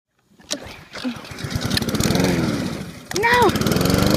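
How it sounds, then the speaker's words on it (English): A lawn mower engine cranks and sputters, its pull-start and rough running close and loud, straining briefly without settling into a steady idle. "as soon as I turn the lawnmower on"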